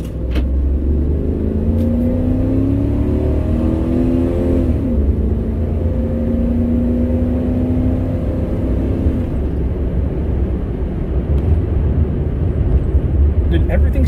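A used car pulls away and accelerates on a road test drive, engine tone climbing through a gear change, loud and close from inside the cabin with steady road noise beneath.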